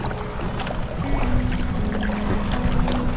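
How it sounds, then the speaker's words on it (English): A kayak is paddled downwind on choppy water, with a steady wash of splashing and rushing water as the boat bounces along, loud and close throughout. "Downwind paddling."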